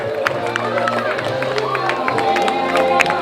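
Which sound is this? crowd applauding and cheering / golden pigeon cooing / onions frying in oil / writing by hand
crowd applauding and cheering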